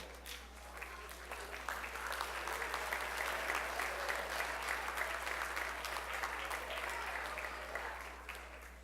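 Strongsville school band concert audience claps for an orchestra member, the applause building over the first two seconds into a sustained full-room patter before tapering, over a constant low electrical hum.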